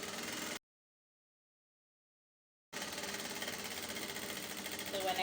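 A sewing machine stitches around a fabric circle for a reversible hair bonnet with a quarter-inch seam allowance, a faint steady hum broken by a short gap of silence.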